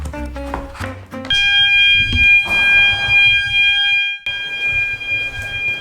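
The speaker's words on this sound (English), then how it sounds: "Fire alarm test. This is a 6-month drill." A building fire alarm sounds during a test drill, a loud sustained electronic tone that starts abruptly, cuts out briefly and resumes.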